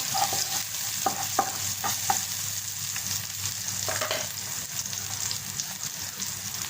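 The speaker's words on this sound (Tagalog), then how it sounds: "ilagay ko na ang aking oil. Garlic and onions. Saute until the aroma come out." Garlic and onions sautéing in oil, a steady sizzle with a few sharp spatula scrapes and clicks against the pan.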